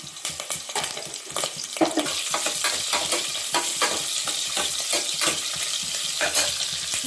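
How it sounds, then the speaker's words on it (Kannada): Mustard seeds, halved onion and curry leaves sizzle and crackle in hot oil for sambar, a dense steady frying hiss with quick sharp pops and occasional stirring clinks, close and loud throughout. "ಎಣ್ಣೆ ಕಾದ್ಮೇಲೆ ಸ್ವಲ್ಪ ಸಾಸಿವೆ ಹಾಕ್ಕೊಳ್ಳೋಣ. ಒಂದು ಅರ್ಧ ಕಟ್ ಮಾಡಿರೋ ಈರುಳ್ಳಿ ಹಾಕ್ಕೊತಿದ್ದೀನಿ. ಸ್ವಲ್ಪ ಕರಿಬೇವಿನ ಸೊಪ್ಪು,"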